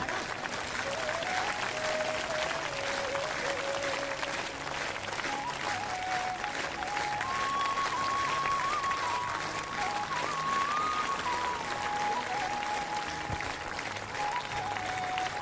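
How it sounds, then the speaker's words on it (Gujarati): Sustained applause from an audience at a Meldi Mata devotional gathering at Bareja Dham, dense continuous clapping throughout with a faint sung melodic line running above it. "એ તાળી તો પાડો"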